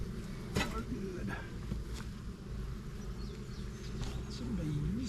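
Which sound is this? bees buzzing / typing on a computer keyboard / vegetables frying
bees buzzing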